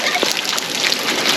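Hot mineral spring water spraying and splashing in Jamaica, a steady close hiss of spray and spatter running without a break.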